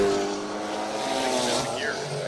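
A drag-racing car at a drag week event makes its run, its engine a loud sustained roar with shifting pitch where a gear is missed, heard up close with a crowd murmur behind.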